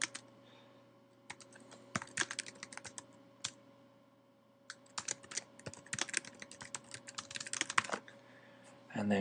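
Someone types a comment on a computer keyboard in quick, close bursts of key clicks separated by pauses, over a faint steady hum.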